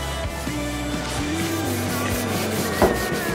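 Clay mitt with clay lubricant rubbed across the painted exterior of a Ram 1500 pickup truck during detailing, a steady close, soft rubbing and swishing with faint scraping texture, continuous with no talking.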